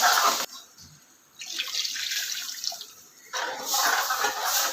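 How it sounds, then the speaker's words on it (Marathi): Water pouring into a pot of beaten yogurt for kadhi in a couple of gushing bursts, separated by a short quieter stretch, close and fairly clear. "आता यामध्ये लगेचच पाणी ओतून घ्यायचंय"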